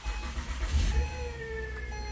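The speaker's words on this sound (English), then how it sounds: "There is this windy noise or turbine noise that's coming from the engine." A 2012 Acura TL engine idles with a failing alternator, giving a steady whirring, windy turbine-like whine over a low rumble, close and continuous with a faint swell near the middle.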